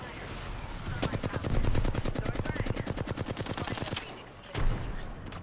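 Video game gunfire: a rapid automatic burst of evenly spaced shots runs for about three seconds, then one more loud shot follows after a short gap.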